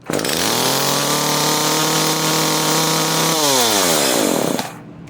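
An Echo CS-303T chainsaw with a carburetor fault, screaming at high revs with a steady whining tone that drops, then climbs again before the engine cuts out abruptly; loud, close and without speech.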